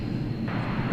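American Airlines jet on a flight to Seattle at DFW Airport, a steady broad engine roar holding level throughout, moderately distant and unbroken, with no voices over it.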